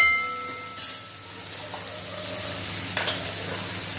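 Onion and garlic softening in plenty of hot oil for a Marathi ridge gourd and moong dal dish, giving a steady, even sizzle with a couple of brief louder spatters and stirring scrapes.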